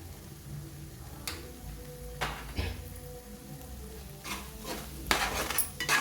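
Spice powder stirred into a cauliflower and tomato curry in a pan, with soft intermittent scrapes and clinks of a spoon against the metal over a faint background sizzle, close and quiet.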